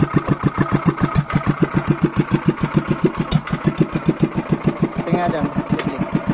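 A Loncin 7HP small engine idling after a carburetor adjustment, thumping in a steady even rhythm up close, with someone speaking briefly over it.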